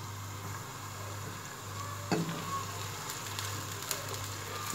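Roughly chopped onions fry in oil as a steady, quiet sizzle that runs the whole time. A single light knock of a utensil breaks through once, and no one speaks.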